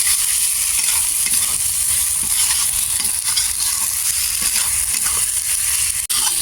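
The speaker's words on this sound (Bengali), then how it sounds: "এবার এর মধ্যে দিয়ে দেবো আমি ভেজে রাখা পটলগুলো পটলগুলো দেওয়ার পরে আমি আরও কিছুক্ষণ এটাকে কষিয়ে নেবো" Fried pointed gourd pieces sautéed in a spiced masala with oil for a Bengali posto dish, giving a loud continuous sizzle with stirring and scraping in the pan throughout and a single sharp knock near the end.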